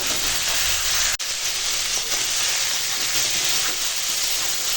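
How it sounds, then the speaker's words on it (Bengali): Spices and vegetables sauté together in a pan with a constant, dense sizzle and hiss, a brief sharp click early on, and no talking. "এখন মশলা আনাজ একসঙ্গে কষিয়ে নেব"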